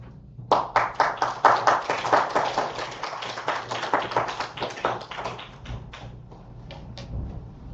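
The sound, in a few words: audience applauding to welcome a church speaker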